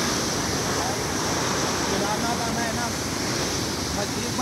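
Fast-flowing river water rushes along the Kedarnath trek, a loud, steady broadband roar that fills the whole clip without pause.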